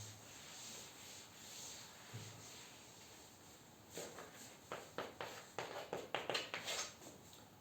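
Eraser or cloth rubbing chalk writing off a classroom board in a maths lesson, heard as a run of short scrubbing strokes that quicken and grow louder toward the end, faint and close with no talk.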